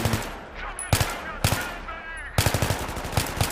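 Bursts of automatic machine gun fire in the video game Battlefield 3, loud close rapid volleys broken by short pauses, with brief speech mixed in.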